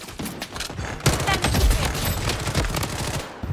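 Rapid automatic gunfire from an MP5 in the video game Blood Strike rattles in sustained bursts, loud and dense, with sharp shots piling over each other.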